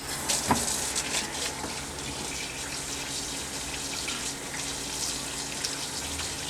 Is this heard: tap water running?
yes